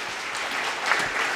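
Audience clapping at a public talk, dense steady applause from a seated crowd, fairly close and continuous throughout with no voices.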